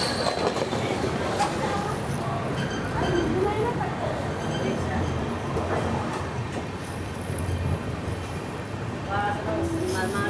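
Mumbai Hyderabad SF Express passenger train running near Begumpet and Hyderabad Deccan, a steady rumbling roll with faint wheel squeals and rattles throughout, heard from on board with some voices now and then.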